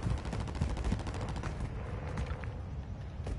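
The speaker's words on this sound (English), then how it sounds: "I thought y'all was shooting at it." Rapid bursts of gunfire from a Call of Duty style video game shooter, loud and dense, with continuous overlapping shots filling the clip and no talk.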